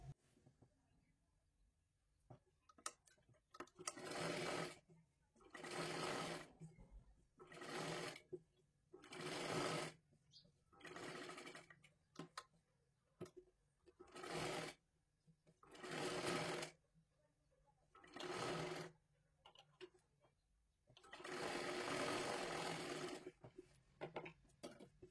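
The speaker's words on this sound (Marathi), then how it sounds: "एकदम कडेकडेला आपल्याला पूर्ण गळ्याला शिलाई मारून घ्यायची आहे." A sewing machine stitches along the full neckline edge of a size 32 princess blouse, running in repeated short bursts of rapid, steady whirring separated by brief pauses, close and clear with no talk.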